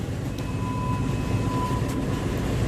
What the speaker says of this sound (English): Then the engine will run at dead slow astern.